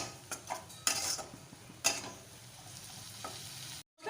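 Spice paste for a rohu fish kaliya sizzles and is stirred in a pan, with a steady low fry broken by a few sharp spatula scrapes and clinks before a sudden cut to silence.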